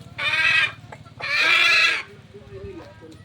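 Hennie gamefowl hens give two loud, drawn-out clucking calls close by, separated by a short pause, with a low steady rumble and softer clucks underneath.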